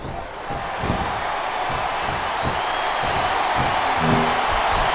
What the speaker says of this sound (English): The crowd is coming alive.